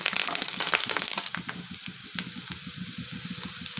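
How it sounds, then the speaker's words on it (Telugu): Chopped onion and curry leaves hit hot oil in a pan with green chillies and tempering spices, a bright sizzle that settles into steady frying with rhythmic stirring scrapes underneath. "కరివేపాకు తరుగు వేసుకొని ఫ్రై చేసుకోవాలి"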